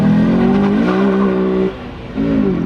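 A Honda engine revs hard on a mountain touge road as VTEC engages, a loud, close, rising tonal drone that holds, dips briefly, then climbs again.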